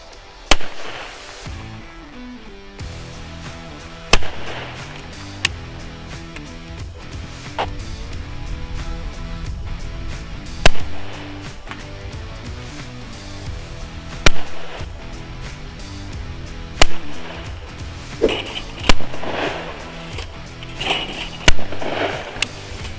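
Yildiz Kompakt 20 bore shotgun fires at clays outdoors, with repeated sharp, loud shots spaced a few seconds apart, some in quick pairs, over a busy background of wind and distant noise.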